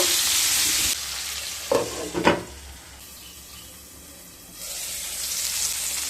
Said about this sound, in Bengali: পটলগুলোকে হালকা ব্রাউন কালার করে ভেজে নেব